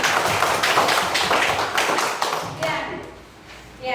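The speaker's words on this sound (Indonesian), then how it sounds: "kasih tepuk tangan dulu dong" A primary school class claps hands together during a coding lesson, a burst of fairly close, slightly uneven clapping that tapers off after a few seconds, with a teacher's voice heard toward the end.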